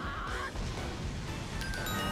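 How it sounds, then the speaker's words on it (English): A chicken in the video game Hyrule Warriors gives a short clucking, honking call, moderately loud over game sounds, with no talking. "A chicken!"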